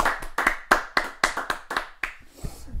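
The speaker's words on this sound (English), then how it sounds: "Clap it up. Clap it up." A single person claps about eight times in a quick, even rhythm, each sharp clap close and distinct, before a brief quieter stretch at the end.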